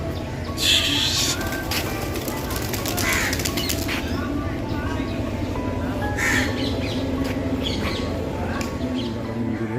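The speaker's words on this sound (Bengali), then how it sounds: "এত পায়রা রয়েছে এক ঝাঁক পায়রা এখানে" A large flock of pigeons coos and calls around a temple courtyard beside the Ganges. Crow caws and human voices mix into the steady, busy outdoor chatter.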